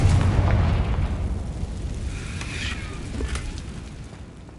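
A Confringo explosion spell from the video game Hogwarts Legacy, a loud booming burst at the start that rumbles and fades into a lingering crackling tail.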